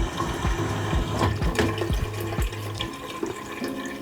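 Water running from a tap into a bucket being filled for a car wash, a steady rushing pour with sloshing and a few knocks of the bucket, alone and close.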